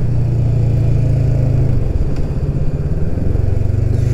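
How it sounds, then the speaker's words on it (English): A BSA Goldstar 650 single-cylinder motorcycle engine held at a steady high idle around 4000 RPM, loud and close, with a constant throbbing drone and slight wavering, no talk. "I'm just keeping it on the boil here at 4000 RPM"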